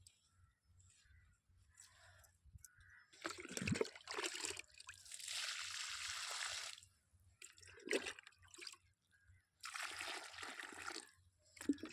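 Water from a bucket is poured onto plants in a small home flower garden, in several separate quiet splashing pours with short pauses between them.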